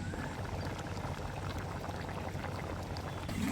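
Beef simmering in coconut milk in a covered pot makes a quiet, steady bubbling burble throughout.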